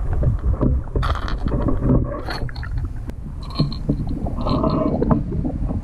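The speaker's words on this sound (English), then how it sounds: "what strikes me most about this bait is the incredible sound" A tail-weighted RC STX jerkbait twitched in a pool gives a few sharp rattling clicks and splashy bursts at irregular intervals over steady water and wind noise, close and fairly loud, with no talking.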